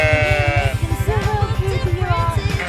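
Lamb bleating close by, several wavering cries over a steady low rhythmic throbbing hum.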